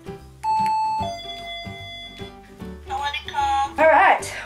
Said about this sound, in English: third knickknack I got was a doorbell for my bedroom